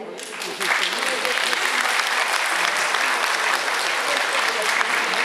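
Concert hall audience at a Palace of Culture show applauds, a dense continuous roar of many hands that swells early and holds loudly throughout.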